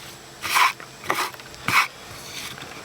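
A chisel cuts into wood while carving the hat of a vintage winking Santa ornament, giving three separate rasping scrapes spaced about half a second apart, close and moderately loud, with quiet gaps and no talking.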